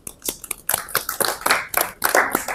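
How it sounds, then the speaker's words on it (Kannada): Clapping from a small audience at a storytelling talk, praising a correct answer: scattered, uneven hand claps in quick bursts, fairly close, continuing for a couple of seconds without voices. "ಎಲ್ಲರೂ ನಿಮ್ಗೆ ಚಪ್ಪಾಳೆ ತಟ್ಕೊ."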